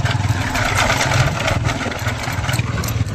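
A motorcycle with a broken front visor runs steadily up close, its engine drone mixed with a continuous loose rattling and buzzing from the front end, with no voices over it.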